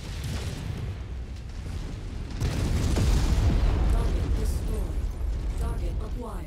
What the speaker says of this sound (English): All those shining, flashing, fluffy explosions.